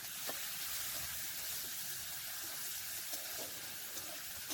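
Chopped onions frying in oil with five-spice and dried chilli in a pan, giving a steady, even sizzling hiss that carries on unbroken and fairly close, with no voices.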